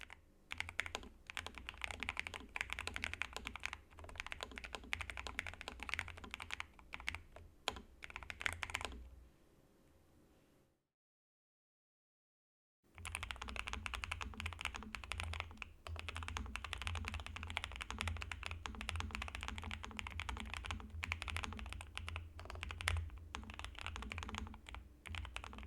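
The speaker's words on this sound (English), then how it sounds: "here's a typing sound comparison of the Node 75 and the Kick 75, which also comes with the red switches" Typing on Nuphy Node 75 and Kick 75 mechanical keyboards with red switches gives a steady close clatter of keystrokes, then a few seconds of silence before typing resumes.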